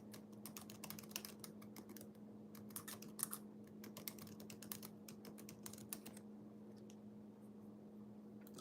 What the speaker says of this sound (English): let me type this in